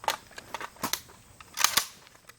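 Sharp metallic clicks and clacks of pistol, shotgun and rifle reloads, including an AK, in a quick irregular series of close, crisp mechanical snaps with brief pauses between.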